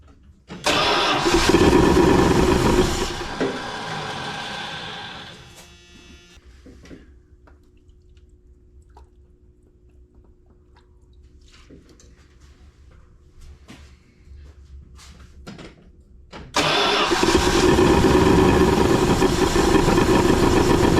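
Starter cranking on a Dodge Diplomat car that has sat for 18 years, a loud close grinding churn that fades to a quiet lull before another long burst of cranking starts, with no catch.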